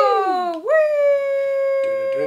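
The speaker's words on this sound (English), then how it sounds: "They're like little dogs. Little fluffy dogs." Little fluffy cartoon dogs howling in the video game Yoshi's Crafted World, a close, clear howl that dips, rises and holds a long steady tone, then gives way to shorter yips at the end.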